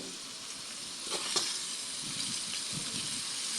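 Pork dinuguan with added condiments sizzles in a hot pan while being stirred, a continuous bright frying hiss broken by a few soft scrapes and clacks of the utensil, with no one talking.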